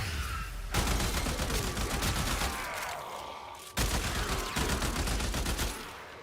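Rapid bursts of gunfire in Warframe, sustained volleys of shots broken by a short pause around the middle, loud and close with a dense crackling texture throughout.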